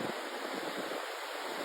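Ocean waves washing up a beach, a steady broad wash of surf with wind noise on the microphone, continuous and fairly loud with no talk.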